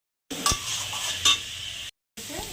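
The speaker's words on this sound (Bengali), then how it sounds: "এবার মশলাটা ভালো করে কষিয়ে নেব, আলুগুলো দিয়ে আরেকটু ভেজে নেব।" Spice paste and potatoes stir-fried in a pan for a thin rohu fish curry, with a sizzling hiss, spatula clinks against the metal pan and a brief pause before the frying resumes.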